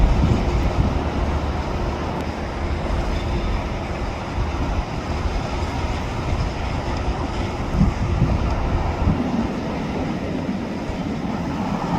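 Freight train with a tank car rolling past outdoors, a continuous loud rumble and clatter of railcars under heavy wind buffeting on the microphone, with no talk.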